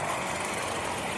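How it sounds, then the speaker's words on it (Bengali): Trawler boat engine running on a river near Postogola bridge, a continuous broad rumbling drone with no breaks, steady and fairly loud throughout the short moment. "দেখেন ট্রলারটা।"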